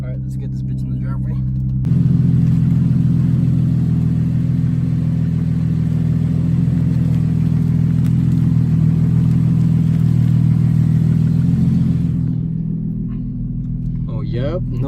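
An Infiniti G35 car rolls into a driveway, its engine a loud, steady low rumble close by that rises and holds before dropping off near the end.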